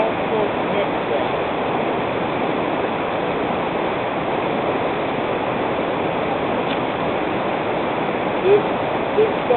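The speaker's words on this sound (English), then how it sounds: "One of my favorite rivers in Northwest Washington, and that's the Skunked Nooksack." The South Fork Nooksack River in Northwest Washington rushes in a continuous, dense, even wash of flowing water, close and fairly loud throughout.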